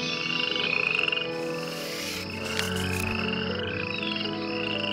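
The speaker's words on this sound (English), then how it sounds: "Frogs were everywhere, and they croaked all day and all night." Frogs croaking in chorus, a dense, continuous trilling and pulsing of many voices, loud and close, with no talk over it.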